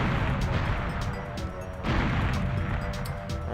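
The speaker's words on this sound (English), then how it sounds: "I know there's two guys over there, so I like to throw grenades." Grenades go off in the Goldeneye 007 video game, loud dense blasts with sharp cracks layered over a constant noisy rumble, a stronger burst arriving near the middle.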